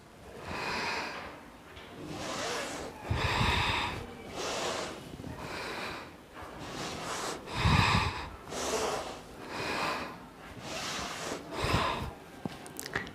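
Someone doing a quick at-home calorie-burning workout breathes out hard and forcefully in a regular rhythm, with about ten loud, close exhalations and quieter breaths between them.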